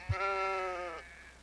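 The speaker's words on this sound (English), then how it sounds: "Yay, we did the sheep. Bighorn sheep." A single bighorn sheep bleats once in a Ranger's Path national park simulator, a clear nasal wavering call lasting about a second, close and fairly quiet, preceded by a soft thump.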